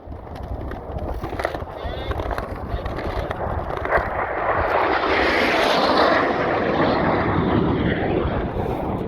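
Model pylon racing jets diving across the course at a home silver race: a broad rushing roar that swells steadily and stays loud as the aircraft sweep past outdoors.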